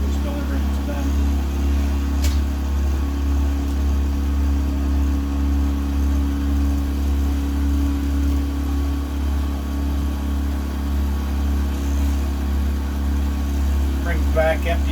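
A propane delivery boat's engine drones steadily while passing near cabins on a lake, a continuous low hum with faint talk mixed in.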